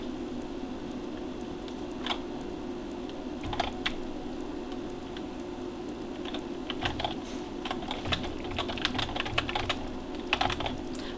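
Keys clatter on a computer keyboard as commands are typed into a text adventure game, with bursts of quick, close clicks separated by short pauses over a steady low hum.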